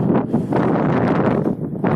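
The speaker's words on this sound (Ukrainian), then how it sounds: "вітер трохи є" Wind buffeting an outdoor microphone beside a river in winter, in low, rumbling gusts that swell and fade over a couple of seconds.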